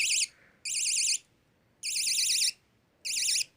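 Battery warning beeper on a homemade web shooter gadget, sounding four sharp warbling electronic beeps in an uneven rhythm, close and loud with quiet gaps between.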